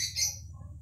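A chicken chick's short high chirp rings out over a low steady background hum, with a fainter peep after it, brief and close, no talking.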